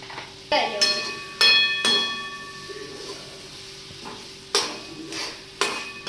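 Metal spoon clinks repeatedly against a pan as turmeric is stirred into frying food, several sharp ringing taps over a soft sizzle.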